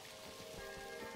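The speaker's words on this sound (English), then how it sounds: "Oh no, it's raining." Rain falls steadily in a farm-building video game, a dense, even patter on surfaces with no breaks over a very short stretch, faint and alone without any voices.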